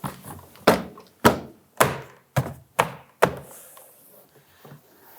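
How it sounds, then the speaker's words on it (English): A series of sharp thunks and snaps, about eight in all, as plastic retaining tabs are bumped into place around a 1999-2004 Jeep Grand Cherokee door panel, spaced unevenly, close by, with quieter handling noise between them. "we can work our way around the perimeter, bumping on our plastic retaining tabs"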